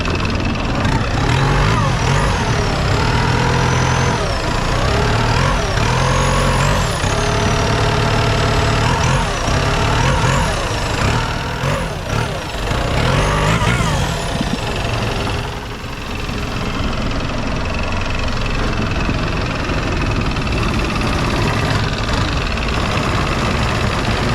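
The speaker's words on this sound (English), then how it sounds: "Lorry engine, bus engine." A heavy diesel truck engine powering a long-tail boat runs loudly and continuously, a deep rumbling drone with rough knocking texture throughout.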